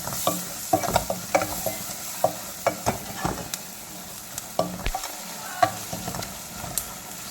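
Liver curry masala with ground garam masala stirred and mixed in a pan, a quiet steady sizzle broken by regular spoon scrapes and taps against the metal, close and unaccompanied by talk.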